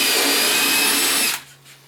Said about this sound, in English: have it flush using a countersink, one of these little magical countersink bits